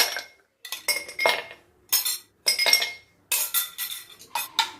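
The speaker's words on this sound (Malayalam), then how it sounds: "2 ഐസ് ക്യൂബ് ഇത് ഇട്ട് കൊടുക്കണം." Two ice cubes drop into a glass for a raw mango refreshing drink, giving a series of sharp, bright clinks and rattles close by in quick bursts separated by short silences.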